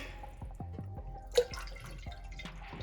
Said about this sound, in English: I'm gonna put a little water in here